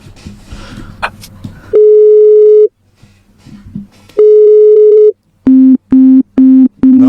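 A phone line rings unanswered with long loud electronic tones, followed by a fast run of short repeated beeps like a busy or disconnected signal. Faint background sounds fill the gaps between tones.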